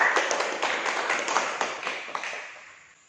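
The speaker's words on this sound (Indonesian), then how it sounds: "kita kasih tepuk tangan dulu untuk kelompok 1" A classroom of students gives a group a short round of applause, a scattered patter of claps that fades out over a few seconds.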